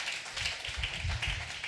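A church congregation claps together in praise. The clapping is moderately loud and spread across the room, forming an uneven, overlapping patter of many hands.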